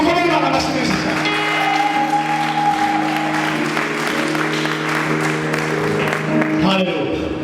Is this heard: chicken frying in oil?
no